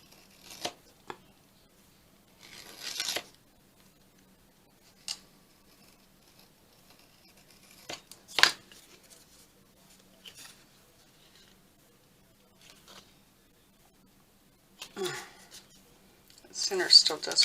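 Scissors cutting through a junk journal cover with a small piece of chipboard, producing a few scattered crisp snips and crunches separated by quiet gaps, close and fairly soft, with a louder burst of cutting at the end.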